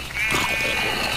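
A sheep in the Minecraft video game gives a single short, nasal bleat that wavers, heard clearly with no talk over it.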